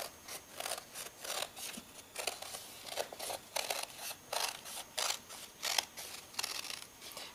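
Scissors snip through paper to cut out pirate hats for a kids' craft, a steady run of about fifteen crisp, close cuts in a regular rhythm with no talking.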